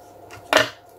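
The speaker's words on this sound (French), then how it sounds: "et là on va venir couper ce qui dépasse." A single short crisp snip or slice through paper, cutting away the excess edge of a vintage-style craft card, close and fairly loud against a quiet room.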